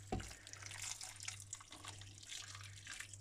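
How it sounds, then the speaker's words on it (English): Water pours from a tap into a crockpot already loaded with lamb stew meat, a soft steady trickle that starts with a brief splash and carries on quietly. "So I'm going to add in some more water."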